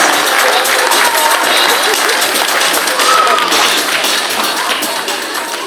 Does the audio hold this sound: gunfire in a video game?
no